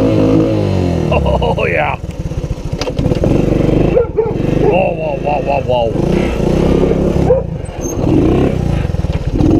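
Three-wheeler ATC engine revving hard during wheelies on a mountain trail, loud and continuous with rising and falling pitch, with shouting voices over it.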